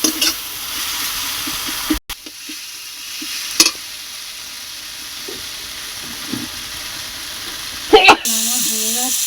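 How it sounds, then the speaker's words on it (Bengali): Potatoes frying in a pan with dried chili powder and a little sugar give a steady, moderate sizzle, broken by a few sharp clinks and stirring scrapes, with a brief voice partway through. "শুকনো লঙ্কা গুঁড়ো আর অল্প একটু মিষ্টি দিয়ে এটা ভালো করে ভেজে নেব"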